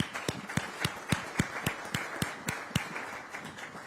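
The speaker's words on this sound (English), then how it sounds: "Can we clap hands for Total Energies?" Applause at a CAF press conference for Total Energies comes as a steady, rhythmic run of sharp individual claps, evenly spaced and fairly close. The claps stand alone and thin out slightly toward the end.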